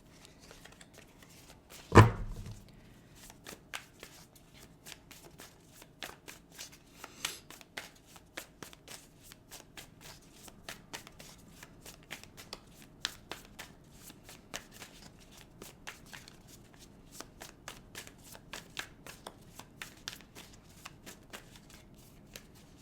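An oracle tarot deck is shuffled and handled up close, with one sharp riffle early on followed by soft, rapid, continuous card flicks and taps at low volume.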